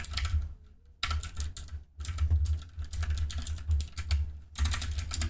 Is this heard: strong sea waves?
no